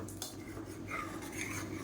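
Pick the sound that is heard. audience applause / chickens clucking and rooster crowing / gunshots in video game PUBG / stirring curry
stirring curry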